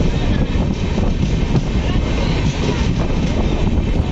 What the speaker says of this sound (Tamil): இந்த ட்ரெயின் வந்து கோயம்புத்தூர்லேருந்து மயிலாடுதுறை போகிற ட்ரெயின்.